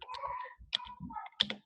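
Typing on a computer keyboard during a programming lesson, a short run of close, uneven clicks and taps lasting under two seconds with no talking.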